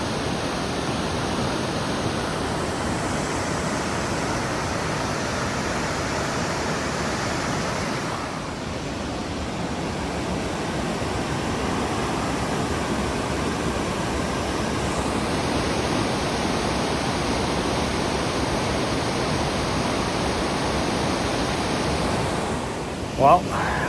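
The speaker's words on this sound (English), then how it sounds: "I can't tell, there's a nice waterfall" Distant waterfall far below in a Pacific Northwest rainforest, a steady broadband roar that holds unbroken throughout, with a faint high tone and a brief knock near the end.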